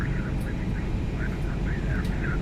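Airbus A320 engine number 1 spooling up during start in the Flight Factor A320 simulator, a steady low turbine roar with a faint whine and cockpit background, continuous and unbroken.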